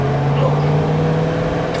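A 1967 Plymouth GTX with a Hemi engine accelerating in first gear, a loud, steady low drone with a rising engine tone heard from close inside the car.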